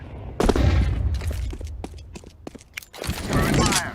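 A thrown incendiary grenade in a shooter video game, with booms, bursts of gunfire and footsteps layered together at loud, shifting intensity.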